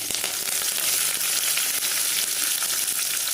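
Curry leaves crackle and sizzle in hot oil while lemon rice is being made, giving a loud, close, continuous frying hiss with dense sharp pops and no voices.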